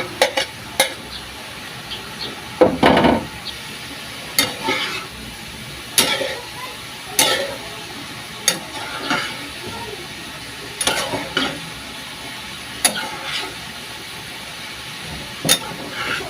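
String beans and fried tofu stir-fried in a pan, a soft sizzle punctuated by repeated spatula scrapes and knocks at irregular intervals, close by, with one louder clatter early on.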